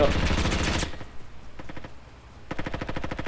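MP5 submachine gun fire in the game Roblox Frontlines: a fast rattling burst up front, a few short bursts in the middle, then another rapid volley at the end, loud and close.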